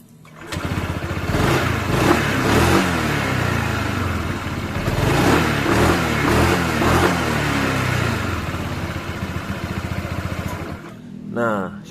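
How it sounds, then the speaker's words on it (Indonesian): A Honda PCX 160 scooter engine starts and runs close by after maintenance on its clutch, a smooth steady idle with a few gentle revs, then a click as it cuts off at the end. "suara PCX saya halus teman-teman, nggak ada suara kelereng, nggak seperti sebelumnya"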